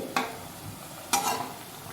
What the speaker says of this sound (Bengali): আমার এক পিঠটা হয়ে গেছে, আমি উল্টে দিয়েছি, আর এক পিঠে বড়াটা ভাজছি।